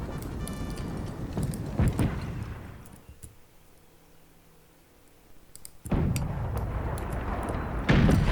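Musket and artillery fire in the Napoleon: Total War game at the Battle of Borodino, a dense crackle of volleys and booms that drops to a quiet lull before the heavy firing returns.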